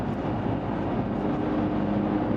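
A BMW E46 M3, the third-generation M3, gives a steady, loud exhaust rumble with a deep low drone that holds evenly throughout, with no voices over it.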